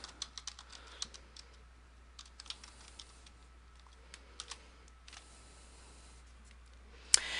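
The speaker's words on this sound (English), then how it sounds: "all we're going to do is type in electrotherapy in that second box" A computer keyboard being typed on during a search, with quiet, irregular clusters of key clicks at close range and a single louder tap at the end, and no voices.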